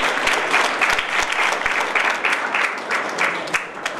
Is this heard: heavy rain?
no